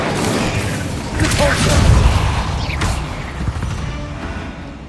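Incendio fire spell cast in Hogwarts Legacy, a loud booming whoosh of flame swelling in the middle with rumbling low end and a few short crackling bursts trailing off.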